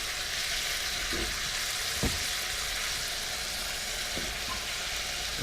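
Big chunks of onion fry in a wok on a boat just after garlic was added, giving a dense, even sizzle with a few sharp clacks of a utensil, close up and without speech.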